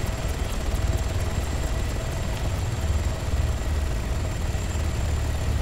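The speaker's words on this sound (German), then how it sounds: "die werden auch die ganze Zeit verfolgt von dem einen Heli hier oben" A helicopter hovers overhead in the video game Arma 3 Altis Life, giving a steady loud rotor thrum and engine drone that stays constant throughout with no speech.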